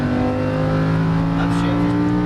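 A Lamborghini Huracan LP610-4 accelerates on a racetrack, its engine a loud, sustained, steady drone as the throttle is squeezed, close and continuous throughout.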